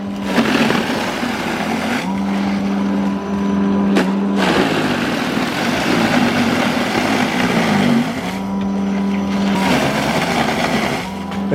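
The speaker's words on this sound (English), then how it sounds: "The cordless power shovel did a fantastic job powering through the slush" A Toro 60V cordless power shovel clears slushy wet snow in a loud, continuous motor whine. The load changes in bursts as it bites into the slush and briefly eases off.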